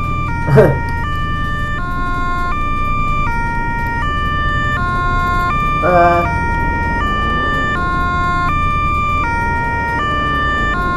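Ambulance siren in a Roblox game, a loud two-tone wail cycling steadily for the whole stretch, with a player briefly laughing and talking over it.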